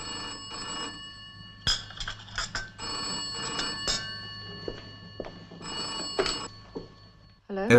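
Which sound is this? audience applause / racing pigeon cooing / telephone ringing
telephone ringing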